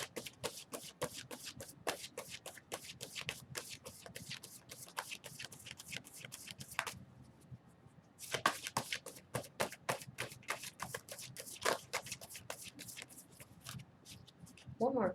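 Tarot cards are shuffled by hand in close, quick riffling bursts that run nearly the whole time, with a short pause midway, while a voice talks quietly over them.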